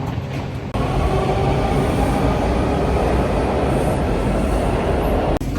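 A DC Metro subway train runs at speed, its loud, steady rumble and rattle filling the car from start to finish, with a brief dip near the start and another near the end.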